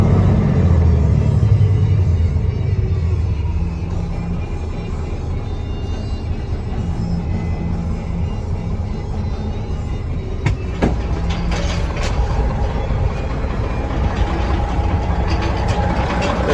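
A 2014 Peterbilt 389 glider daycab truck engine idling smoothly, a steady deep low rumble holding even and close throughout with a few faint clicks partway through and no talking.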